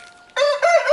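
A rooster crows loudly and close by, a strained call rising abruptly after a quiet moment and holding to the end.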